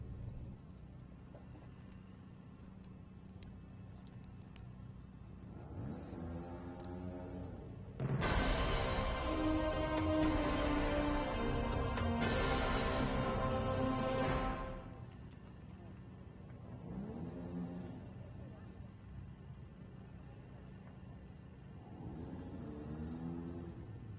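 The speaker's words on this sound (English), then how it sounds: "the engines are roaring behind me" Junior cross car engines roar at Aspar Circuit during the 2024 FIA Motorsport Games, swelling into a loud, rough, several-second burst midway, with a commentator talking before and after it.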